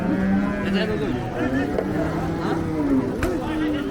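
Cattle low with long drawn-out moos over a busy crowd murmur and scattered voices at the Hazratpur cattle market in Bangladesh.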